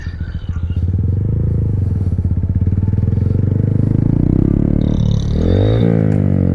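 A vehicle rolls through an abandoned lot with a loud, close, steady engine drone and rough low rumble, and scraping and clattering over debris near the end.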